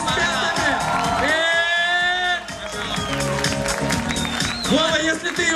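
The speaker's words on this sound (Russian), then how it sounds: "Давайте поддержим ее своими аплодисментами" A crowd at a Miss ITMO 2011 pageant event applauds and cheers, dense continuous clapping with whoops on top, while voices carry over the noise throughout.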